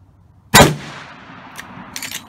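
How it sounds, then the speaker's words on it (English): A single sharp rifle shot from a Marlin GOVT rifle fitted with XS sights, loud and close, with a short echoing decay and a couple of faint metallic clicks afterward. "Shoot two, make sure the first one wasn't me."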